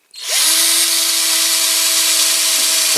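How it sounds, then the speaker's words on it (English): A power drill bores out rivets on a Corgi Toys FC-150 Jeep hydraulic tower wagon die-cast model, a steady high-pitched whine that starts abruptly and runs loud and continuous, close up, with no talking. "I think I am going to drill these ones out, these rivets out"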